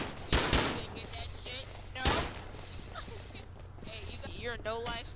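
Explosive-ammo gunfire rings out during a raid in the video game Rust, with two loud shot bursts followed by scattered lighter impacts under ongoing talk.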